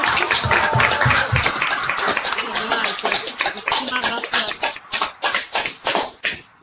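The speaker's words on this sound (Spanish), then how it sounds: "se merece un aplauso" Applause follows an interview with a book author at an easy-reading book club, loud clapping at first that thins into scattered, separate claps toward the end.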